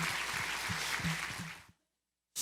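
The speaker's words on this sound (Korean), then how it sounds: "우리 하나님께 감사와 영광의 박수를 올려드리겠습니다." A church congregation gives dense, full applause for under two seconds, then it stops abruptly into silence before another sound starts at the very end.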